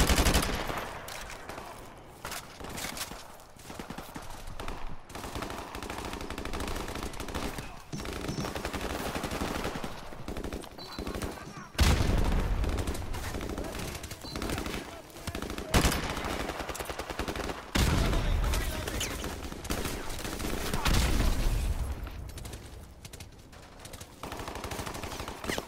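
Dense gunfire from a Call of Duty Modern Warfare match plays nearly nonstop, with sustained loud bursts and rapid shots under a busy game soundscape and occasional voices.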